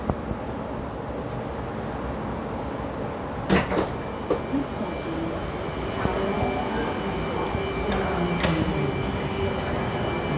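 A Sydney train pulls into Town Hall station, a steady rumble and rolling noise filling the carriage with a few sharp clanks and rattles partway through, and a voice speaking over it.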